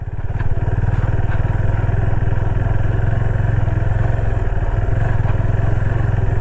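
A motorcycle ridden solo along a slippery jungle road near a sea beach outside Kolkata, its engine putting out a loud, steady, close drone with a rapid pulsing beat and no pauses.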